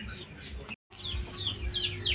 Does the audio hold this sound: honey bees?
no